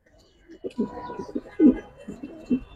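Giribaz pigeons cooing close by in several short, throaty bursts, with soft voices murmuring in the background.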